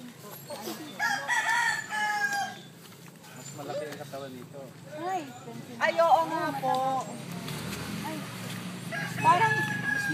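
A large three-year-old rooster crows repeatedly at a poultry farm, its calls rising over steady background noise while people talk between and over the crows.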